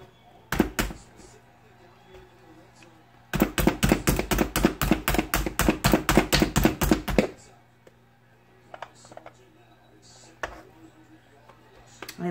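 Slap chopper chopping vegetables in a home kitchen, a brief pair of sharp hits followed by a fast, steady run of about twenty close, loud percussive chops, then quieter scattered taps.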